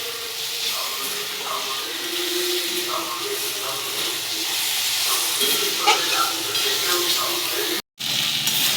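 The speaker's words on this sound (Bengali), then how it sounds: "আলুটা মশলার সঙ্গে ভালো করে কষিয়ে নিয়েছি" Fried potatoes sizzling in spiced oil while being stirred with masala for cauliflower kofta, a steady broadband hiss running throughout with a brief break near the end.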